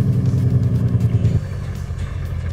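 A Freightliner FL Classic (FLC) truck with a Cat 3126B engine in American Truck Simulator, played through a surround speaker setup, gives a steady loud low diesel rumble that thins slightly partway through, with no voices.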